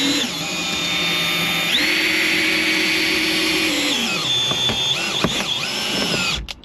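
A power drill whines steadily through a windshield's urethane bead during a cut-out on a 2019 Subaru Crosstrek, the motor pitch shifting up midway and then stuttering in short bursts near the end before stopping.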